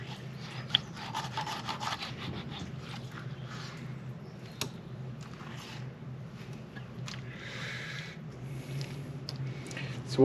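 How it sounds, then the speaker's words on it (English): A knife trims excess flesh off a blonde ray, giving faint, repeated scraping and rubbing strokes with a few small clicks, close up and without talk. "Just trimming the excess off."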